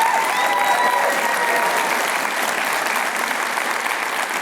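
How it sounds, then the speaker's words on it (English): An audience applauds at the Dreamforce admin keynote, a dense, steady wash of clapping from a large crowd that holds evenly throughout and fades only slightly toward the end. "give her a round of applause"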